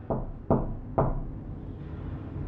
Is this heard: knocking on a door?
yes